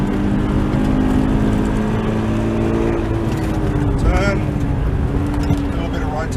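A race car engine holding 3rd gear on corner entry drones with a steady, loud low-pitched tone, the pitch dipping briefly mid-way as the car turns in, while the driver talks over it.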